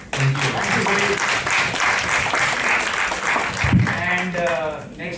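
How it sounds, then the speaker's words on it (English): A crowd at a Q&A session gives sustained applause, loud and dense clapping across the whole moment, with voices speaking over it. "a huge round of applause to Sameer Jain and Net Solutions"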